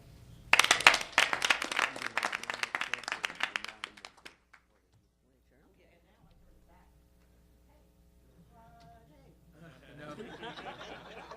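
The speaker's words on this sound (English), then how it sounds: "So let's give ourselves a round of applause and look forward to celebrating a job well done." Attendees at an education commission meeting give themselves a round of applause: a burst of lively clapping for about four seconds fades to near silence, and then quiet chatter and voices pick up.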